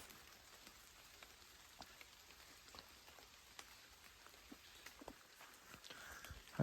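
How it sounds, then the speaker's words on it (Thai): Soft, steady rain patters down in a forest during a jungle trek, with scattered faint drips and taps on leaves and ground, quiet and diffuse with no talk. "ตอนนี้ฝนก็ตกปล่อยๆทุกคนนะ"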